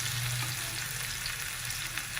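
Marinated fish sizzling in hot oil over a medium flame, a steady close crackle with a low hum underneath and no voices.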